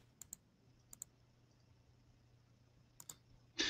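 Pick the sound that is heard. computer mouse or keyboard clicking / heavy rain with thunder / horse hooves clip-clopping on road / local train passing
computer mouse or keyboard clicking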